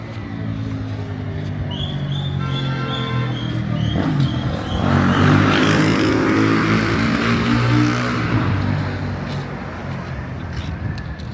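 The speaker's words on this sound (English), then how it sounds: "I don't like those motorbikes which make a lot of noise." Motorbike engines roar past on a street in Burundi, swelling louder mid-clip then fading, with traffic noise and a hint of voices underneath.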